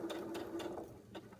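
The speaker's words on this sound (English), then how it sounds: "I'm going to sew up all 4 of those" A sewing machine stitches sweatshirt fabric and lining for slipper boots, making a steady, rhythmic mechanical whirring and ticking. It is close and quiet, with no talking.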